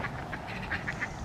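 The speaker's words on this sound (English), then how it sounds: "Probably hear all the ducks. There's loads of ducks about." Ducks quack at a nature reserve, a quick run of several short nasal calls near the listener over faint outdoor background.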